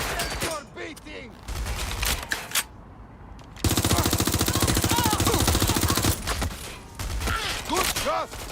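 Rapid automatic gunfire in the video game Watch Dogs Legion, a dense sustained burst of shots in the middle, with scattered single shots and game sounds before and after, loud and close.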